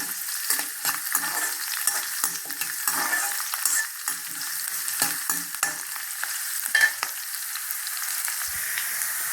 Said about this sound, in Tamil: பூண்டு நல்லா வதக்கிட்டுங்க